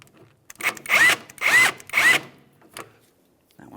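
Three bursts of a power tool, likely an impact wrench, loosening 18mm nuts on a sway bar link of a 2013-2020 Ford Fusion, each lasting about half a second, loud and close with short pauses.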